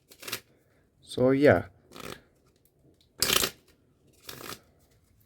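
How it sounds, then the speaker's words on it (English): A deck of playing cards is shuffled in a card magic trick, heard as a loud, riffling burst, then shorter flicks and rustles, with brief speech at the start. "You start to shuffle the cards."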